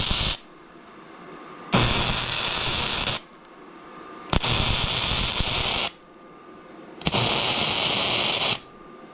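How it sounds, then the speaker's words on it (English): Stitch welds laid onto a metal plate, three loud crackling bursts of a few seconds each separated by quiet pauses, close by. "I'll start up here and then just drag it down and make 3 or 4 just stitch welds right here."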